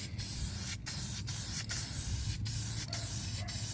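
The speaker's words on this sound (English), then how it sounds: "I'm going to spray some of this flat black on it" Flat black paint hisses from an aerosol can in a series of short bursts, roughly six quick sprays separated by brief pauses, close and fairly quiet, during restoration work on a center console boat.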